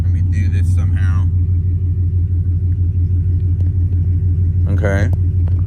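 A 2018-19 Ford Mustang GT idles in drive with a steady, deep, loud rumble throughout, while someone speaks briefly over it near the start and again near the end.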